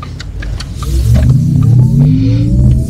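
Porsche Taycan 4S electric drive sound, a synthetic rising hum that sweeps upward in pitch as the car accelerates over low rumble, heard from inside the cabin.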